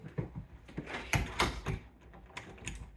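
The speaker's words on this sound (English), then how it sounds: "I'm just going to make sure that the door shuts" An interior door in a manufactured home is swung and pushed shut, giving a cluster of close, soft knocks and rattling clicks over a couple of seconds.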